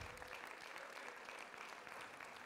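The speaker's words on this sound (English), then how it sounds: "clap your hands and pray in tongues" A church congregation claps at a healing and deliverance service, a faint, continuous patter of many hands with no clear pauses, heard at a distance throughout.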